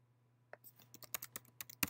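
Keys clatter on a computer keyboard in a quiet room, a quick irregular run of soft close clicks with a steady low hum underneath.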